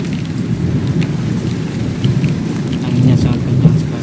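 Heavy rainstorm with thunder in Makkah, Saudi Arabia: a dense, steady roar of downpour with deep low rumbling throughout, swelling louder toward the end, with no voices.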